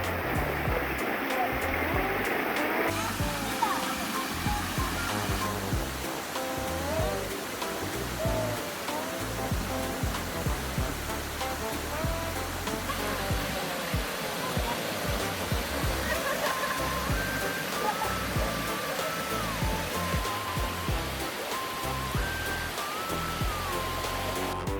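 River water rushes and flows continuously, a dense broadband wash that stays steady and close throughout, with faint background voices mixed in.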